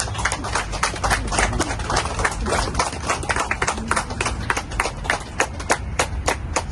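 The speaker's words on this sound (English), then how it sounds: "Give a round of applause." Sustained applause from a crowd of staff at a foundation stone ceremony for the new Meghalaya House annexe in Delhi, dense overlapping claps that stay steady and loud through the whole stretch.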